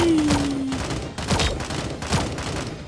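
Rapid gunfire in the cartoon battle-royale game Sausage Man rings out as a string of loud, evenly spaced shots over about three seconds, aimed forward at enemies.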